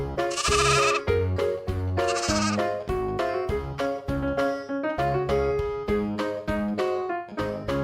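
A sheep bleats loudly in two wavering cries, the first near the start and the second about a second and a half later, over steady upbeat background music.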